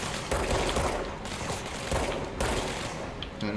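Rapid gunfire rattles through a combat scene in the video game Control, dense bursts of shots hammering on continuously at close range.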